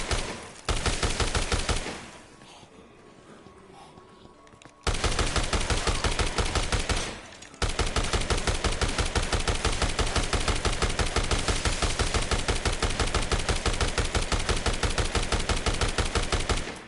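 Rapid automatic gunfire from a hip-fired gun in Dead Rising, loud bursts of fast repeated shots with two short pauses, then sustained firing to the end.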